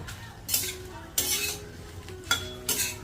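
Chillies being roasted in oil in a pan over a slow flame for niger seed chutney, with several distinct metal spoon scrapes and stirs against the pan over a faint background sizzle.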